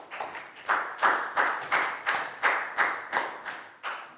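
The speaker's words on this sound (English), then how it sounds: "Big round of applause for Nadia, please, guys." A classroom of Year 4 pupils claps in a slow, even rhythm during a maths lesson, about a dozen loud unison claps, close and bright, with no talk over them.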